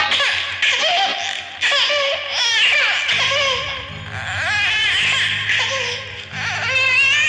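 A baby wails in a staged folk-theatre performance set in a dense forest, with repeated rising and falling cries alongside laugh-like giggling sounds and a low droning musical accompaniment running underneath.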